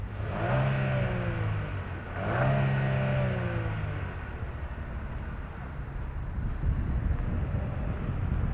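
A 2025 GMC Terrain Elevation compact SUV engine revs up near the microphone in two rising surges, then settles into a steady driving rumble with wind noise.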